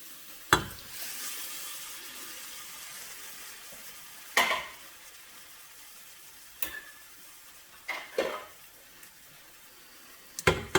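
Crushed tomatoes go into a hot shallow pan on a gas stove in several sharp bursts of hiss and splatter. Each burst fades back to a quiet low bubbling between pours.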